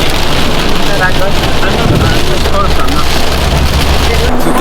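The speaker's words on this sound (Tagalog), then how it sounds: "Lakas ng ulan." Heavy rain at a campsite, a dense, constant hiss and patter that does not let up. A low rumble sits beneath it and no one speaks.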